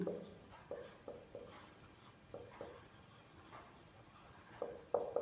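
Pen or marker writing notes on a board or page during a biology lesson, a series of short scratchy strokes in bursts with small pauses, fairly close and moderately loud, with no talking.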